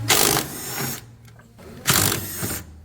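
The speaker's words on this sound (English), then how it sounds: "Now I'm gonna remove the 3 13mm bolts." A power tool drives out the 13mm strut top bolts on a PT Cruiser getting lowering springs, two close, loud whirring bursts separated by a brief pause with faint rattling.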